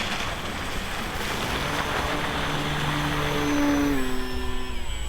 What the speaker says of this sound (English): So this is the noisiest DJI drone they ever made.